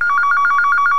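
An old telephone bell rings in a fast trilling burst, loud, close and steady, with no voices over it.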